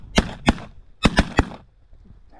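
Shotgun shots fired at decoying ducks during a snowy duck hunt in Alberta: two quick blasts, then a rapid string of three, and another shot at the very end, loud and close over quiet wind.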